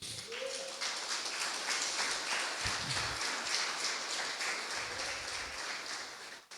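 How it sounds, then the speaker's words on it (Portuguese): A church congregation applauds together, a steady dense wash of many hands clapping that holds evenly from start to finish at moderate loudness, with faint voices briefly rising beneath it. "Dá uma salva de palmas para ele."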